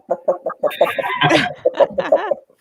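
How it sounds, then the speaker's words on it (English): Chickens cluck in a busy, overlapping chorus just outside a door, short repeated calls close by with a louder cackling burst in the middle, no talking. "you have the chickens outside your door, making tons of sound"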